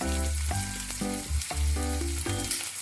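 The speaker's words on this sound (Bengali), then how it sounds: "এবার এতে পেঁয়াজ কুচিটা দিয়ে দেব।" Chopped onion with a little salt frying in oil for a Bengali chicken dish, a steady close sizzle broken by repeated stirring scrapes and clinks, with a pitched tonal hum under it throughout.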